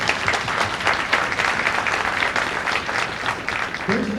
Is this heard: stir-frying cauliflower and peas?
no